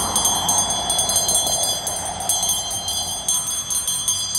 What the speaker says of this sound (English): I'm sorry for ringing the bell